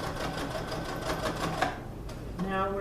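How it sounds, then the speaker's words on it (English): Sewing machine back stitching a pocket on a children's apron: a steady, close rapid whir of the needle running for about two seconds, then a short pause, with a voice talking near the end. "Now we're going to back stitch."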